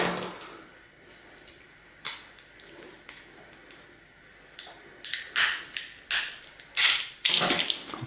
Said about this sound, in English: we'll get a screwdriver to that and we'll see if we can open that out